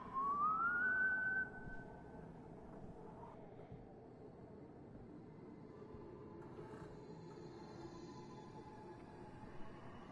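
A character in the horror video game White Day whistles a rising tune at the start, nearby and clear, then fades into a low rumbling game ambience with faint tones later on.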